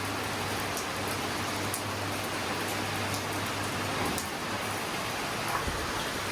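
Heavy rain pours steadily on surfaces and parked vehicles, a dense continuous hiss with scattered drop impacts and a faint low hum beneath, no voices.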